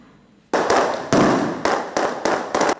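A burst of fireworks at an anniversary celebration: several sharp, loud bangs in irregular succession, each crackling and decaying quickly, with no talking.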